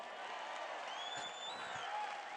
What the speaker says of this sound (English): He's giving me applause